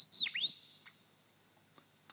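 A lyrebird mimics a pilot bird's call with a loud whistled phrase of two swooping notes, followed by faint scattered clicks in a quiet forest.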